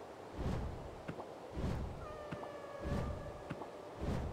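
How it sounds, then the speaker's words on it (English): Cat-like meowing calls from the video game Okami, rising and falling wails like sad little mews, repeating in slow waves over soft game ambience, with a few thin tonal whistles layered in. "but it is starting to sound like a cat now"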